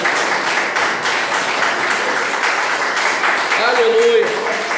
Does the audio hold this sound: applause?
yes